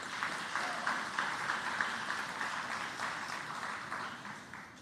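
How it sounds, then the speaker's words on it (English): A crowd claps steadily at a human rights celebration gala, a dense sustained patter that sounds somewhat distant and fades slightly toward the end. "And so with another round of applause,"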